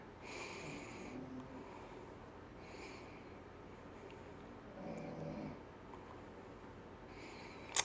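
Faint, slow snoring from a man repeats in rhythmic snorting breaths, distant in a quiet room, with a soft click at the very end.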